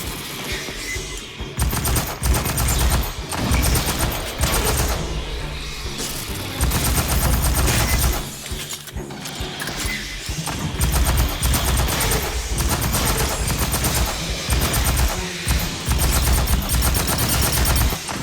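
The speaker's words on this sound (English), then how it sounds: "So this heavy assault rifle definitely kills them in less bullets than the pulse rifle." Heavy assault rifle fire in Aliens: Fireteam Elite, loud sustained automatic bursts hammering almost without pause, mixed with explosions and combat noise throughout.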